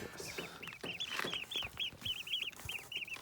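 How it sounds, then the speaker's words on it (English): White broad-breasted turkeys in a farm flock give a run of repeated short high chirping calls, about a dozen in quick succession, moderately close over a busy background. "These are white, broad-breasted turkeys"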